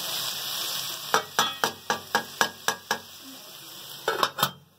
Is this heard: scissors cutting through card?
no